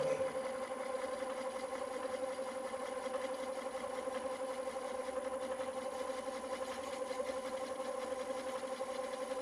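A woodturning lathe fitted with a Vicmarc oval device runs steadily through a bevel-supported cut, making a continuous mid-pitched mechanical whir with a faint high whine, alone and unbroken throughout.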